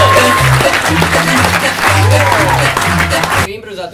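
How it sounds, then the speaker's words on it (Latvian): An audience claps at an improvisation show, loud, dense applause rising toward a peak, with a voice talking over it and the clapping cutting off abruptly near the end. "Ja jums būtu jāaplaudē 10 baļu skalā, ja?"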